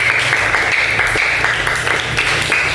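Classroom applause from pupils at the end of a lesson, a continuous crackle of many small hands clapping, moderately loud and steady, with a faint hum underneath.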